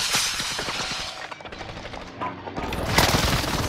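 Video game gunfire, rapid machine-gun bursts and single shots crackling in quick succession, loud and close, with a short lull before another heavy burst.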